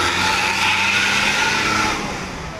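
A PO Haryanto bus at a roadside agent stop, its engine and exhaust roaring loud and close at high revs, then easing off as it pulls away.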